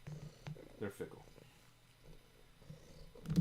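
A cat purrs softly in the background while a person talks over it, the low rumble steady and close.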